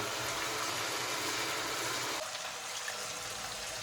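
Bulgur being rinsed in cold water, a steady broadband rush of running water that drops and softens partway through as the flow changes, close and continuous with no talk.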